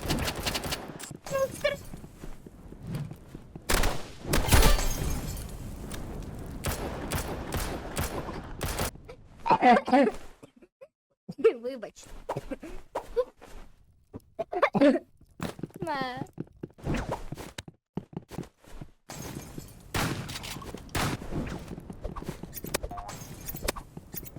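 Rapid bursts of gunfire in the Roblox shooter Rivals crackle in clusters, mixed with hoofbeats and footsteps, while people talk over the action throughout.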